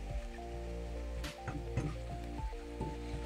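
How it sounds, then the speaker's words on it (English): Ground meat sizzles steadily in a hot Teflon frying pan, a continuous crackling hiss with a low hum underneath. "Nice sizzle."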